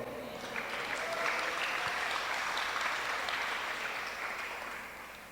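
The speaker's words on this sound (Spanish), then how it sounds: "Si recibe esta palabra, dele un fuerte aplauso al Señor." A church congregation gives a strong round of applause during a sermon, sustained clapping heard from some distance, swelling slightly and then easing off toward the end.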